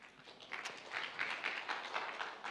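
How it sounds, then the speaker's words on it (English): Studio audience at an international climate-neutrality summit applauding a welcomed environmental trainer, a steady patter of clapping heard from a modest distance, fairly soft and continuous without voices on top. "Give an applause to her, please."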